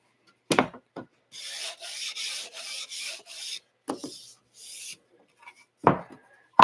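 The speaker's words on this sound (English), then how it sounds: "I just kind of hit them with a little bit of sandpaper in order to smooth it out" Sandpaper rubs along the edges of plywood drawer parts in a few close, short scratchy strokes, broken by brief knocks and pauses.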